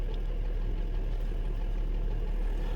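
A Mercedes engine runs at idle with a noisy intake and exhaust camshaft, giving a steady, even mechanical hum and faint ticking throughout, close and unbroken.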